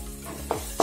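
Okra fry sizzling in a pan as chili powder is stirred in, with a soft steady fry and two sharper scraping stirs near the end, close and alone without talk.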